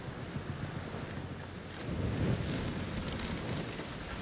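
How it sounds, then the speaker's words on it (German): Strong sea wind in A Plague Tale Requiem, a steady broadband rush that swells louder about halfway through, with a faint watery wash beneath and no voices. "Da muss ein starker Wind sein, da rauf aufs Meer zu, oder?"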